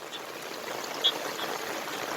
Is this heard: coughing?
no